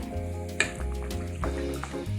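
A spoon stirs a cup of milk into boiled macaroni in a cooking pot, making a steady wet swishing and faint bubbling with a clear knock against the metal near the start.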